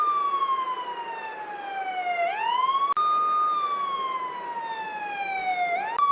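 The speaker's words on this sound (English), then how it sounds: "Obviously an ambulance." A wailing siren sweeps slowly down and up in pitch, loud and continuous, with a sharp click partway through.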